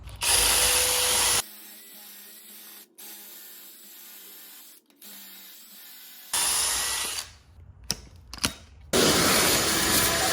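A drill bores pocket holes into plywood through a Massca twin pocket hole jig, loud whining bursts at the start and end with a quieter stretch between, close up.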